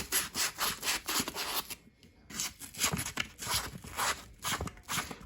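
A rusty N scale hopper weight is sanded with 400 grit sandpaper, giving a steady, close, rhythmic rasping scrape that repeats in back-and-forth strokes with one brief pause, no voices.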